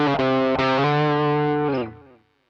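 Electric guitar through a pedalboard with overdrive and a delay pedal, a sustained distorted chord with a couple of picked accents, then fading away in a soft delay tail over about two seconds.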